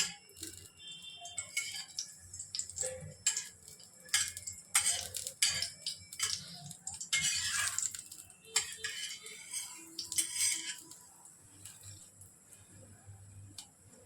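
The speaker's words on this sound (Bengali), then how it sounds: "শুকনো লঙ্কাটাকে ভেজে নিতে হবে" Dried red chillies fry in oil in a pan, giving a light, irregular crackle with scattered metallic clicks and taps of a spatula pressing them down, close by and fairly quiet.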